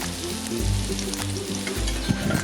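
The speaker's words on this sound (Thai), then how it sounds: "ผัดเครื่องเทศใส่กันนะครับ" Spices being stir-fried in a pan for Thai braised pork leg, a steady loud sizzle with a low crackling hiss and occasional scraping stirs close by.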